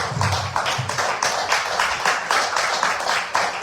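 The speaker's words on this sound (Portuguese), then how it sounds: "as palmas é do Senhor Jesus" A church congregation claps together in a rhythmic, repeated beat, loud and close, the rolling applause continuing for the whole stretch.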